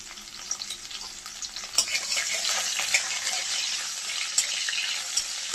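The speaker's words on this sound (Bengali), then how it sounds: "এখন ক্যাপসিকামটা হালকা করে ভেজে নিচ্ছি।" Capsicum lightly frying in mustard oil gives a steady close sizzle, with scattered crackles and stirring clinks from the pan and no voices.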